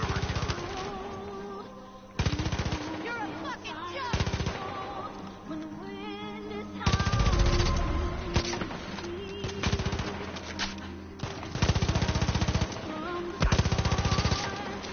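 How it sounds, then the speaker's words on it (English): In Far Cry 5, machine gun fire rattles out in long rapid bursts through the whole stretch, loud and dense, overlaid on busy game sounds with short pauses between volleys. "Are you still on the machine gun?"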